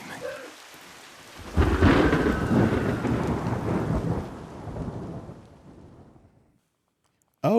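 Heavy rain and a deep rolling thunderclap in the opening cinematic of the video game Mandragora: Whispers of the Witch, swelling suddenly loud, then fading away to near silence before a sharp new sound at the end.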